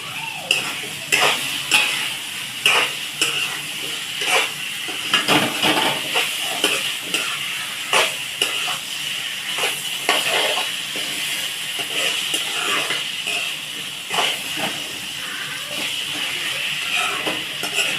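Drumstick pieces stirred into a simmering egg curry with tomato and onion in a frying pan, a steady loud sizzle with repeated scraping and knocking of a spoon against the pan in a close, busy rhythm.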